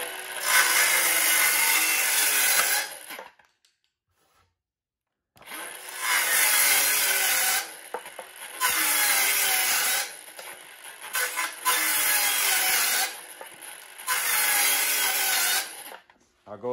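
A Milwaukee M12 Fuel cordless circular saw cuts primed three-quarter-inch material in several loud, whining passes of a few seconds each, with short gaps and one longer silence between cuts.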